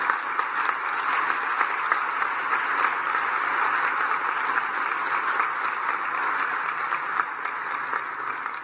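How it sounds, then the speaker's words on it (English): Sustained applause from an audience at the International Anti-Corruption Excellence Award ceremony in Kigali, a dense, even wash of many hands clapping that holds steady and fairly loud throughout. "He does deserve a rousing applause."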